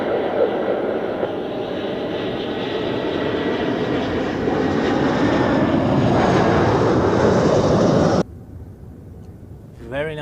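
An Airbus A340 airliner landing at Zurich Airport, a loud steady roar of engines and rushing air that holds for about eight seconds and then cuts abruptly to a faint background hum.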